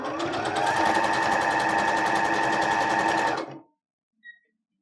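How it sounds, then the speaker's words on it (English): A sewing machine stitches children's leggings fabric from the inside in a fast, steady whir that cuts off abruptly, followed by a single brief click in the quiet. "I'm sewing from the inside"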